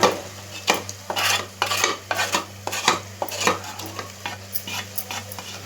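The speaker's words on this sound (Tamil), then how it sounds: "இப்போது மீன் பொரிச்சு எண்ணெயை தூக்கி அதில் ஊற்றிக்கலாம்." Hot oil left from frying fish is poured into biryani masala in a pot, and a spoon stirs it with repeated scrapes and clatters over a steady sizzle, close and fairly loud.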